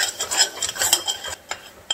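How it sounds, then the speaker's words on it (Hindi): Flour being stirred into melted butter in a kadhai, a spoon scraping and rubbing against the metal pan in quick close strokes, with a final sharp tap. "इसको हिला लेंगे"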